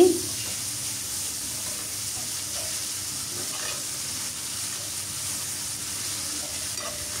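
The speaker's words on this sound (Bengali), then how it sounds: "এখন এগুলো খুব ভালোভাবে তেলের সাথে মিশিয়ে নিচ্ছি, একদম যাতে করে একটা সুঘ্রাণ বের হয়।" Ginger garlic paste fries in hot oil for a restaurant-style chicken curry, giving a steady close sizzle with faint stirring scrapes after an initial clatter.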